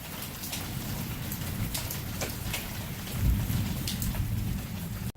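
Steady, dense rain pours down during a thunderstorm outside where chicken wings are being cooked, and a low thunder rumble swells midway through, with no voices.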